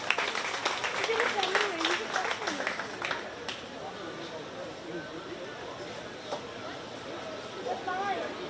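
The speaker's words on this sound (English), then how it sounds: "Let's give him a big round, or a big round of applause." Applause from a county fair crowd after a 4-H sheep and goat show entry, a dense patter of clapping that is loudest at first and then thins, with scattered voices and murmur beneath it.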